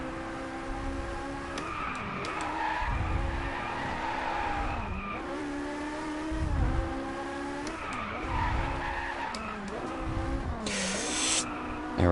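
Ferrari sliding through a drift in the racing game Drive Club: a steady engine drone with repeated rising and falling tire squeals and skid noise, loud and close, running continuously with brief bursts of spray-like hiss.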